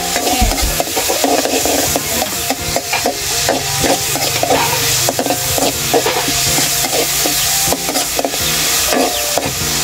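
Red onion sautés in margarine in a pan for sisig, a loud close sizzle broken by rhythmic stirring scrapes, with background music running underneath.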